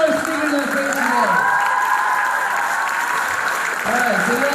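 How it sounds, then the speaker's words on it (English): Audience applause and light cheering for speakers on stage at a live event, a continuous loud clapping texture with a voice speaking or singing over it. "can we get a big round of applause for all our speakers on stage today?"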